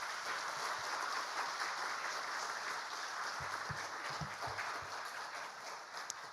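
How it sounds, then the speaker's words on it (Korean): Applause from a church congregation at a testimony service, a broad steady wash of clapping filling the room for the whole stretch, fairly distant and even. "박수로 모시겠습니다."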